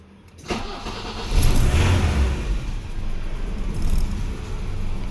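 A 1987 BMW E30 with the M10B18 engine cold-starts on a 20°C morning: a brief starter crank, then the engine catches and settles into a steady, slightly high idle, close and alone.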